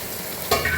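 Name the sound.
stirring carrots into chicken fried rice in a pan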